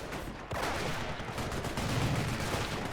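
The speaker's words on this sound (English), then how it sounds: "the second grenade launcher actually hitting the building and damaging the infantry inside" Grenade launcher rounds slamming into a building in Company of Heroes, a sudden loud blast followed by dense, continuous rumbling and crackling battle noise.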